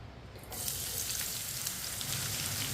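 Chopped onion and garlic cloves fry in a pan for aloo baingan, a loud steady sizzle that bursts in after a brief quiet start and crackles on without a break.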